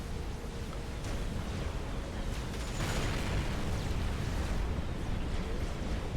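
An aircraft carrier explodes in a Supreme Commander naval battle as a broad, rumbling roar of blast noise that swells and holds at a moderate distance under the continuous din of combat.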